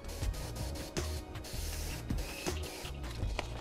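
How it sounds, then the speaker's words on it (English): Airbrush spraying paint onto a foam RC model, a soft close hiss in short repeated bursts at low volume. "it's pretty precise where this airbrush sprays."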